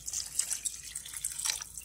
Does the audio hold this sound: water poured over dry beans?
yes